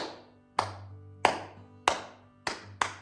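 Five separate hand claps ring out in a slow, slightly uneven rhythm, each a crisp close smack with a short decay and quiet gaps between.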